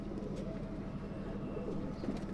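Fancy-breed pigeons kept by a hobbyist, cooing softly and continuously at close range in a loft, with a low steady rumble of background noise and no talking.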